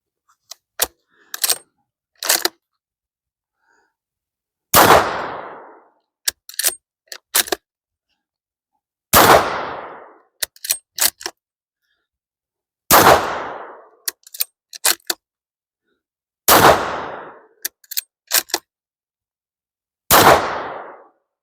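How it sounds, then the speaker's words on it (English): Unsuppressed rifle shots from a Howa MVP firing Winchester Super Suppressed ammunition, five loud sharp reports spaced about four seconds apart outdoors, each with a trailing echo, between smaller metallic clicks and handling clatter of the rifle. "5 rounds unsuppressed,"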